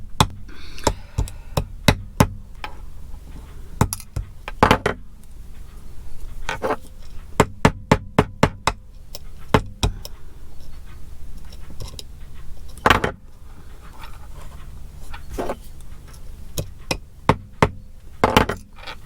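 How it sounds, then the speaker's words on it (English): Nails being hammered through an old box, heard as sharp, close metallic knocks that come in quick bursts of several blows, with short pauses between the runs. "I'm going to have to hammer some of these nails through."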